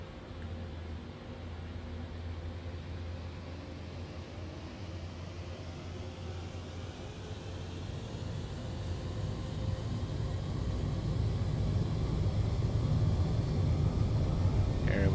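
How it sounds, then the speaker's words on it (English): A Boeing 787-10 in Microsoft Flight Simulator 2020 spools up for takeoff, a broad steady engine roar and low rumble building gradually louder over the run, with no talk. "We are cleared for takeoff."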